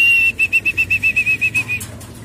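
Pigeons flap their wings in a quick run of about a dozen loud, close beats as they fly into a loft, with a steady whistle-like tone riding over the flapping before it stops.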